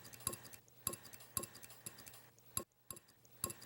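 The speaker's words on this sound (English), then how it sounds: "You just want to whisk it together with the milk so it's kind of bubbly" A whisk or fork beats egg and milk together in a bowl for French toast sticks, making quiet, evenly spaced clinks against the side about every half second, close by with nothing else in the background.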